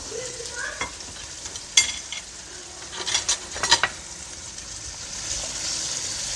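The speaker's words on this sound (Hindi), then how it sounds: "अब इस समय पर आकर हम अपना चिकन डाल देंगे। इसको अच्छी तरह से फ्राई करेंगे" Chicken pieces frying in a pot for chicken pulao, an even hiss of hot oil broken by several clinks and scrapes of a spoon stirring against metal, close and with no talking.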